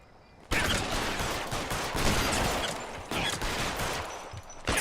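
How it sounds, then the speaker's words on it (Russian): Rapid, dense gunfire from a shootout in the video game L.A. Noire, a loud sustained fusillade of overlapping shots that starts abruptly and continues throughout with no speech. "Кривая стрельба"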